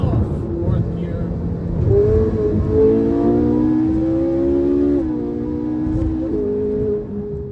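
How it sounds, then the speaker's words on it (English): 2011 Ferrari 458 Italia accelerating hard in fourth gear on a road, its engine note climbing steadily in pitch with strong, loud rising harmonics, a brief dip near five seconds, then continuing to pull. "We'll give it a visceral push up here on the throttle before we sign off. Fourth gear."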